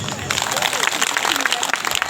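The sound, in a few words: audience applause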